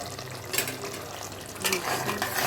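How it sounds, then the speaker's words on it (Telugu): Boiled eggs going into a tamarind, tomato and onion gravy in a pan, with a steady low sizzle and soft stirring scrapes, a brief clatter of a spoon partway through. "ఇప్పుడు ముందుగానే బాయిల్ చేసి పెట్టుకున్న ఎగ్స్ యాడ్ చేశాను"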